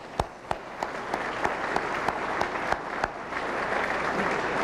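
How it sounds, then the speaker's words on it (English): The audience at the 1992 Players Ltd GM Motorsport Series banquet breaks into applause: a few sharp early claps, then a broad, steady wash of clapping from a roomful of people. "let's give that teamwork"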